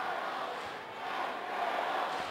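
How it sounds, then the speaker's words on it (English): A noisy home crowd fills a high school gym during a basketball game, a steady, dense roar of cheering voices with no breaks, heard from a short distance. "now we've got a noisy home crowd here"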